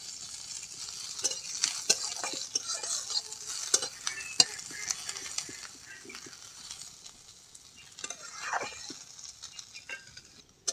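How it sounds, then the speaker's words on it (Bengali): Chopped onions fry in a pan for lentil and drumstick-leaf dal, stirred repeatedly so a spatula scrapes and clicks over a soft, bright sizzle that swells and fades, close by and without voices. "পেঁয়াজগুলোকেও ভালো করে ভেজে নেব, যাতে করে কাঁচা গন্ধটা চলে যায়।"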